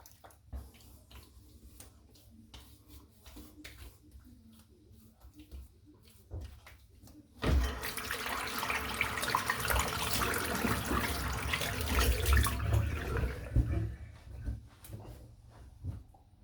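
Tap water runs into a sink while hands are wet before shaving, a steady close splashing rush that starts abruptly, continues for several seconds, then stops, with faint handling sounds around it.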